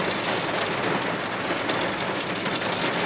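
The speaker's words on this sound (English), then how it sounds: "Look at this rain." Heavy rain falls steadily outdoors, a dense, continuous hiss of drops striking surfaces with no pauses and no voices.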